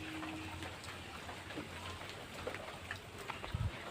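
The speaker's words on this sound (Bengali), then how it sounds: "বৃষ্টি পড়েই যাচ্ছে।" Rain falls steadily during the monsoon season onto a waterlogged street, a soft, even hiss of drops with occasional faint patters and no voices.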